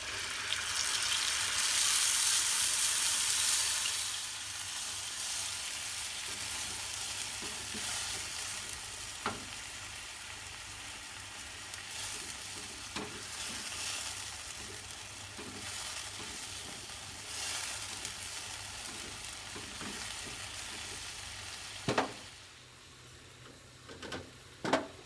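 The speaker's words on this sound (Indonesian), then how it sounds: "Kalau minyaknya sudah panas, tumis bumbu yang tadi dihaluskan sampai matang." Ground spice paste for a rendang-style egg dish sizzles in hot oil in a wok. It gives a steady frying hiss that is loud at first, then settles. Scattered scraping stirs and clinks run throughout, with a sharper knock near the end.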